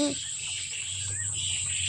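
Faint, steady high-pitched cricket chirring drones throughout as crickets are caught and shaken into a bucket, with a brief bird-like chirp and low background hum.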